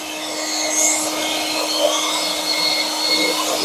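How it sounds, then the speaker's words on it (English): A compressed-air blow gun blasting debris out of a 2020 Hyundai Kona 2.0L engine air filter housing, a steady loud hissing rush held for several seconds at close range. "Take the little blow gun here. I'm going to blow this all out."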